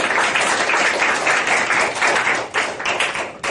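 Audience applause in a lecture hall, a dense, steady burst of many hands clapping close and loud, tapering slightly near the end.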